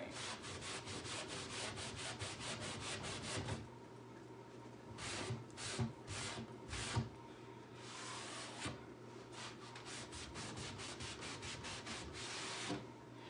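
A rag rubs Annie Sloan chalk paint and enhancement finish into wooden furniture with steady, close, scratchy back-and-forth strokes, some bursts faster than others; no one speaks.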